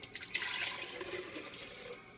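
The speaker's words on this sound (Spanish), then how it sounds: "Vamos a agregar primero, antes que nada, el agua de un coco fresco que apenas abrimos." Fresh coconut water from a just-opened coconut is poured into a blender for a vegan jackfruit smoothie, a soft continuous trickle and splash lasting a couple of seconds, fairly quiet and close.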